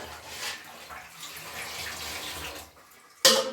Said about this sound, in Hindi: और पानी भी निकल रहा है।